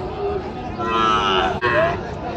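A Sahiwal bull calf or other cattle at a Joypurhat livestock market gives a drawn-out moo lasting about two seconds, close and loud, over a constant murmur of the crowded market.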